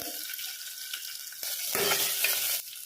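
Green chillies, curry leaves, cumin, mustard seeds and asafoetida frying in hot oil for a tempering, a soft steady sizzle that swells louder and brighter midway through, close up with no voices.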